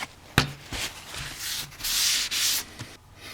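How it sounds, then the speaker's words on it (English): Rag wiping away excess cleaning spray on a Craftsman 60T 3/8-inch drive thin-profile ratchet during a rebuild, heard as close, brisk rubbing strokes with sharp bumps and two longer scrubbing passes, no talking. "And then of course wipe up all the excess."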